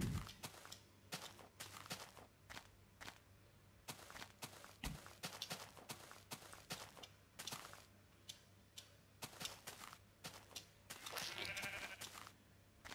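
Several short bleats from Minecraft sheep on a hillside, scattered among soft game footsteps and ambient noise, fairly faint and intermittent with no talking.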